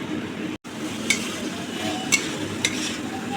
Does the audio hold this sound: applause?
no